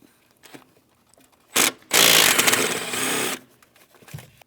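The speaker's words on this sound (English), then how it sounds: "we can move along to removing all the hardware holding our upper intake plenum in place" Power driver spinning out 8mm mounting bolts from the upper intake plenum of a 2015-2025 Ford Transit 250: a short whir, then a longer steady buzzing run of about a second and a half, close and fairly loud, with no talking.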